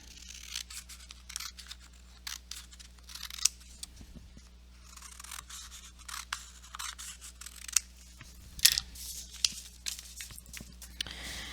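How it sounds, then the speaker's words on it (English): Scissors snip through stacked black paper in quick, close, irregular cuts, with faint rustling between snips. "I'm going to stack my black paper and cut."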